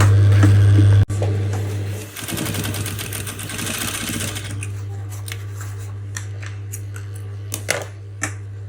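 A sewing machine stitches a double-layered three-part bra cup: a loud hum at first that stops abruptly after about a second, then a steadier mechanical whir of stitching, followed by a few scattered clicks and fabric handling sounds toward the end.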